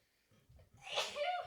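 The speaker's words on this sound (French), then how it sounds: "tout le monde est super chanceux de m'avoir entendu éternuer" A single sharp human sneeze preceded by a brief quiet intake of breath, close and moderately loud, heard alone without talk.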